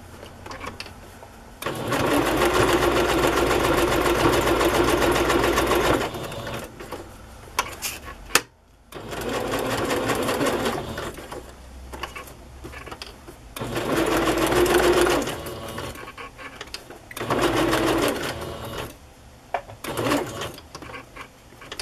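A sewing machine with its presser foot down stitches in several sustained runs of a few seconds each, whirring steadily and fairly close, separated by brief pauses and small clicks, while journals are being made.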